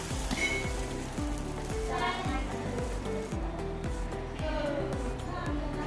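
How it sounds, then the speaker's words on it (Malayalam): Coconut dosa batter poured and spread on a hot pan sizzles steadily, with a continuous close frying hiss and a few light clinks. A repeating tonal background runs underneath throughout. "പാൻ ചൂടായി മാവ് ഒഴിച്ച് കൊടുക്കാം നൈസായി ഇതുപോലെ പരത്തണം"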